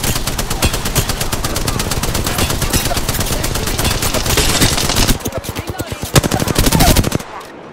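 Rapid, loud automatic gunfire from an Apex Legends match rattles almost without pause, ending in a slower string of separate shots.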